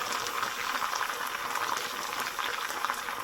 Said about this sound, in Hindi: इसमें कीमा ऐड करेंगे